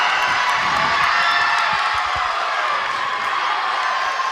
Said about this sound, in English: Campbell crowd is loving it as Hofstra takes a timeout